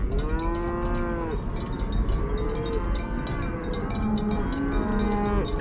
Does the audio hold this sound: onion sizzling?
no